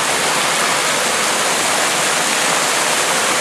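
Ribbon Falls in the Grand Canyon pours as a loud, continuous wash of broadband water roar, steady and close with no other sounds.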